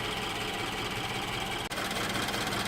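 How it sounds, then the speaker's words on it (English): A Subaru BRZ / Scion FR-S / Toyota 86 engine at operating temperature idles steadily, a close, even mechanical hum with a faint ticking texture and one brief dropout. "I'm just going to let it idle for a bit more"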